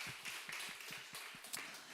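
A church congregation at a Korean Sunday service claps in a quick, even rhythm, faint and a little distant, with no talking over it.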